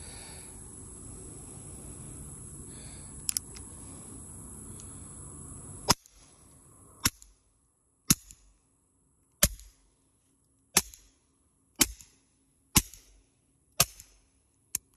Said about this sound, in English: Beretta Tomcat 3032, running a Thompson machine Poseidon.